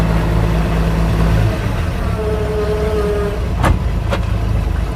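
A 1965 Chevrolet C10 truck that sat for years in a field rumbles steadily as it is driven in, its engine a loud continuous drone with a couple of brief higher squeaks near the end.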